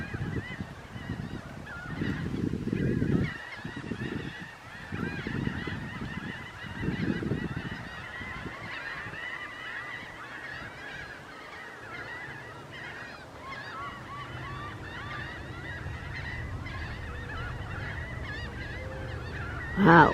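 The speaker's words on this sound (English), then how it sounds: "Wow, lots of seagulls." Large gathering of seagulls calling at the Jersey Shore, loud overlapping honking cries in bursts near the start, then a denser, quieter chorus of many birds continuing in the background.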